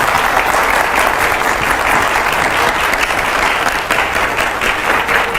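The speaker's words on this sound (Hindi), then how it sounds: "मैं चाहूँगा जरा जोरदार तालियां हो पहले हमारे रैपिड फायर राउंड के लिए।" Loud, sustained applause from a large studio audience before a rapid-fire quiz round, holding steady for several seconds with dense clapping throughout.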